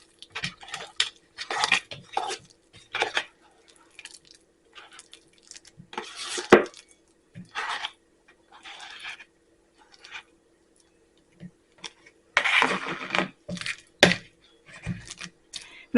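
Ripe, brown-spotted bananas mashed in a bowl for gluten- and dairy-free banana nut bread, heard as irregular bursts of squishing and utensil clatter against the bowl, close and fairly quiet, with pauses between strokes.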